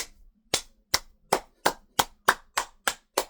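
One person claps hands in applause, nine sharp, evenly spaced claps at a steady rhythm, close and clear with no other sound.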